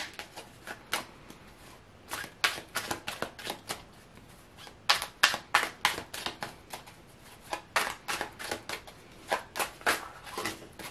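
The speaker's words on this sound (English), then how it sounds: "I'm gonna go ahead and shuffle some more." Tarot cards being shuffled by hand in repeated bursts of riffling and snapping, close and fairly quiet, with short pauses between bursts and no talking.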